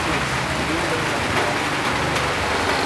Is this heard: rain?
yes